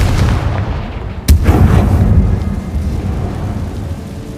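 In the Hogwarts Legacy video game, a Confringo blasting spell bursts as a sudden loud explosive crack, followed by a rolling rumble that fades slowly.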